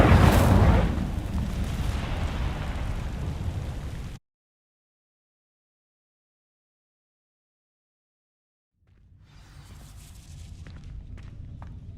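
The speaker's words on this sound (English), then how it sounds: "These dry vines are one spark away from becoming kindling. Incendio!" An Incendio fire spell ignites dry vines in Hogwarts Legacy with a loud burst of roaring, crackling flame that breaks off into silence. Quieter rustling and crackling follow afterward.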